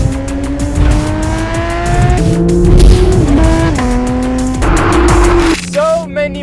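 A Porsche GT3 sports car driven flat out on a winding road in the south of France, its engine screaming up through the revs with sharp gear changes and tyre noise, loud and close.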